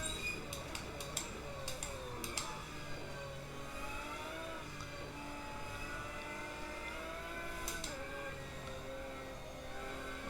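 A naturally aspirated Lamborghini GT1 race car from 2005 runs in Automobilista 2, its engine droning and shifting pitch steadily at a low level, with brief sharp clicks near the start and again later.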